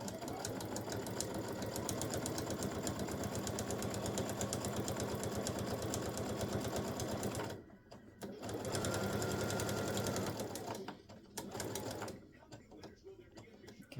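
A sewing machine stitches binding around a quilted hot pad, a fast rhythmic mechanical whir that runs steadily, halts briefly twice and restarts, with a person talking quietly between bursts.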